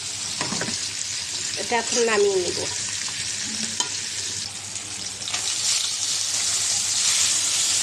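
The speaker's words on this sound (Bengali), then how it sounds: "এখন কই মাছ ভেজে নেব।" Koi fish frying in hot oil in a home kitchen, with a steady broadband sizzle and occasional stirring clatter throughout, and a brief voice speaking near the start over the frying.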